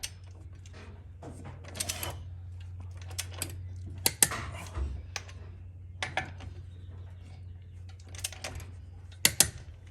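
Lug nuts on a Tracker boat trailer wheel being tightened in a crisscross pattern, heard as scattered metallic clicks, rattles and clanks of a wrench over a low steady hum, fairly close, with no talk.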